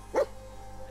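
A single short bark from Dogmeat, the dog companion in the game Fallout 4, sounds once at moderate distance, followed by quiet game ambience.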